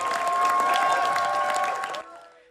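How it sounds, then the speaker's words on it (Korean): A standing ovation at the Cannes film festival for a Korean film: dense, sustained applause from a large crowd that cuts off abruptly after about two seconds, leaving a quiet tonal tail. "기립박수가 쏟아졌습니다"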